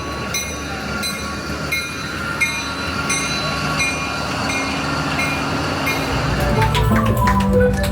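A passenger train to Cusco, Peru rolls along the rails with a continuous rumble and rhythmic clicking, growing louder and squealing faintly toward the end; no one speaks.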